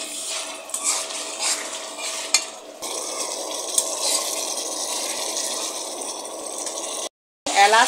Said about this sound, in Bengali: মশলা যাতে না পুড়ে যায় এই জন্য একটু পানি দিচ্ছি।